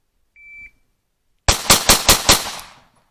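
Five handgun shots from low ready at 7 yards on a qualification course, loud and close in a quick even string, preceded by a short electronic timer beep.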